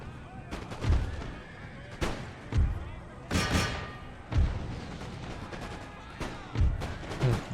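Musket volleys from soldiers in the Empire: Total War video game, Prussia campaign, fire in repeated booming bursts about once a second or two, loud with ringing tails, over battlefield ambience.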